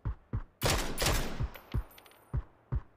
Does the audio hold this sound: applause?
no